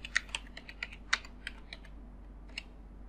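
Keys tapped on a computer keyboard while filling in an online form, a handful of close, crisp clicks in an uneven rhythm, with one sharper press standing out, alone in a quiet room.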